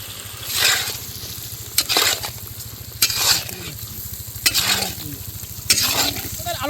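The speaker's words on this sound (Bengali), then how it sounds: "মশলা কষে গেছে, একটু আলুটা দিয়ে দিই।" Potatoes frying in a spiced masala of turmeric, cumin, chili and coriander powders for aloo dum, with a steady sizzle and repeated scraping stirs of a utensil against the pan.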